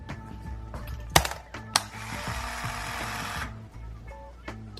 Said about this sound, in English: Motor drive here offers auto wind and load,